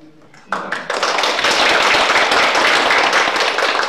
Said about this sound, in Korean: 순서대로 박수를 부탁드리겠습니다